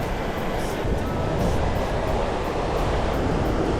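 Mountain torrent and waterfall in the Pyrenees: a steady, loud broadband rush of tumbling water fills the whole stretch without pause, with no voices over it.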